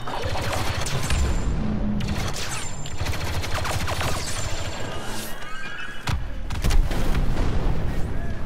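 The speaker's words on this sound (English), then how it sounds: "Wookiee grenades just exploded in front of me." Grenade blasts and heavy gunfire in Star Wars Battlefront II, a chaotic barrage of booms and rapid shots layered over a constant battle rumble, loud and close, with a bigger burst near the end.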